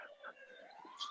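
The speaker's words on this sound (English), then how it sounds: "I got to wait for the ambulance to go through." An ambulance siren sounds somewhere outside, a steady wavering wail that stays at moderate volume throughout with no clear rise or fall of a pass-by, heard alone without talk.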